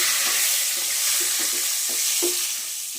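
Bay leaves dropped into hot oil for a chicken and potato curry give a steady, bright sizzle, loud and continuous, with a few soft clinks of stirring underneath.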